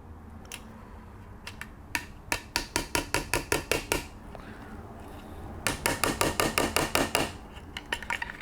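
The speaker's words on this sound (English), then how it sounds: "I'll just give them a light hammer again." Light hammer taps drive hinge pins into the bulkhead of a 1/10 retro Formula 1 RC kit car, coming in two quick runs of sharp, evenly spaced metallic knocks, close and fairly loud, with a few scattered taps between them.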